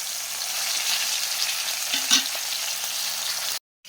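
Tilapia fish fries in hot oil in a pan, making a loud, steady, close-up sizzle throughout, with one brief stir or movement before the sound cuts off.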